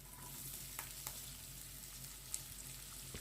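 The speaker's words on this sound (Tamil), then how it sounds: "இந்த பூண்டு கொஞ்சம் நல்லா பொரிஞ்சதுக்கு அப்புறமா ரெண்டு பெரிய வெங்காயத்தை பொடியாக கட் பண்ணி சேர்த்துக்கலாம்" Garlic, finely chopped large onions and curry leaves fry in oil in a pan for a brinjal and drumstick kara kuzhambu, a faint steady sizzle with a few soft stirring clicks.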